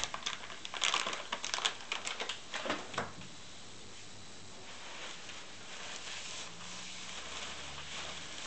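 A sealed SKF spherical roller bearing being unwrapped, with crisp crinkling and rustling bursts of packaging for about three seconds, up close, then fading to quiet room tone.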